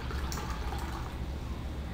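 Water poured from a cup into a bowl of cake batter made with oil and eggs gives a soft, steady liquid trickle, faint and close, with no talking.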